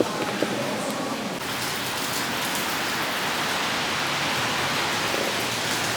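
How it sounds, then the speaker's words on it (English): Steady rain in Vienna hisses and patters on surfaces in a continuous, even wash of noise, with no speech. "It's raining and it's very annoying."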